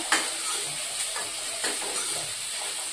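Green chilies and onions lightly frying in a pan for egg curry, giving a soft continuous hiss and sizzle with a few faint stirring scrapes, close by and steady.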